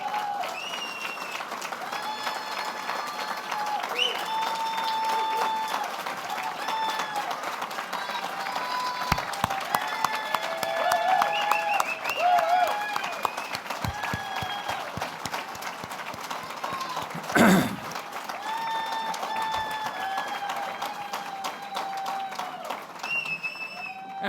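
A dinner audience at a Lincoln Day Dinner claps in a steady, scattered patter across a large room, with a speaker's voice and crowd murmur running over it at moderate loudness.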